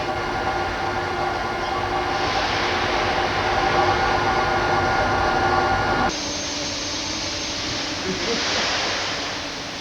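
Heavy industrial rail yard noise as wheel bogies are swapped beneath a broad-gauge Trans-Siberian railway car in Russia, a steady loud mechanical rumble and hiss that shifts abruptly partway through and continues without speech.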